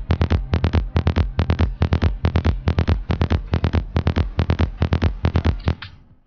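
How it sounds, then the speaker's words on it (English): Kick drum and bass line playing together in FL Studio, a steady rhythmic pattern of about twenty-two loud, regular low thumps with tonal bass underneath, looping evenly across four bars with no talk. "I already made the 4 bars kick drum and kind of bass line like this."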